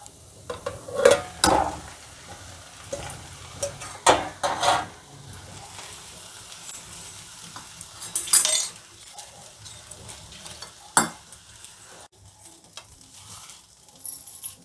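Tender tamarind leaves cook in a pan with cooked rice for a South Indian chitrannam, giving soft sizzling under a scatter of scrapes and clinks as a spoon stirs against the metal, with a few sharper knocks close by.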